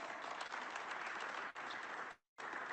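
A room at a press conference breaks into sustained applause, a dense, even wash of clapping that dips briefly and cuts out for a moment before resuming.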